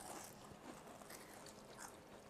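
Someone bites into a crisp, deep-fried Scandinavian rosette cookie dusted with sugar, giving a soft, close crunch with faint chewing in a quiet room.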